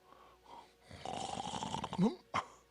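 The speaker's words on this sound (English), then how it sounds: "Snoring." Snoring from a character in the King's Quest video game, a long, raspy, rumbling inhale followed by a short, sharp snort, close and moderately loud.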